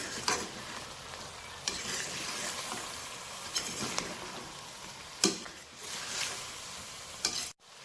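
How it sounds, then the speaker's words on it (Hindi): Ginger garlic paste frying in a pan with chicken for a dhaba-style chicken karahi, a soft steady sizzle broken by a few spoon scrapes and taps, fairly quiet and close, ending abruptly. "अब हम इसमें अदरक लहसुन का पेस्ट डालेंगे। अदरक लहसुन के पेस्ट को फ्राई होने देंगे।"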